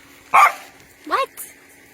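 Two quick barks from a puppy, a strong yap followed by a shorter, higher bark, close by with a moment of quiet between them.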